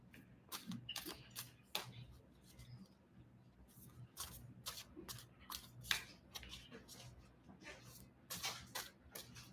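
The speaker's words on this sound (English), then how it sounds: "I would say in the pre-shuffle, because I was just shuffling them" Tarot cards are shuffled in several quick rustling bursts, close and soft, with short pauses between handfuls in a quiet room.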